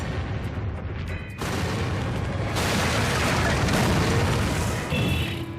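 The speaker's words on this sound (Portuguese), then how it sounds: "De repente, o meteoro explode no ar. É como uma bomba nuclear." A meteor explodes in the air like a nuclear bomb, a loud, sustained rumbling roar that surges abruptly and stays dense and heavy for several seconds before easing slightly.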